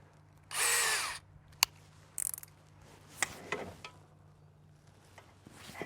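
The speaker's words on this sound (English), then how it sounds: "All right, guess we gotta drill those." Power drill boring out rivets on an aluminum rooftop tent awning, one loud burst of drilling about half a second long followed by scattered clicks, knocks and handling sounds of the tool and metal.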